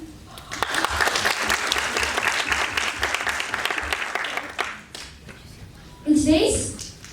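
A children's audience claps in a sustained ripple of applause at a children's musical, lasting several seconds before fading, followed by a voice.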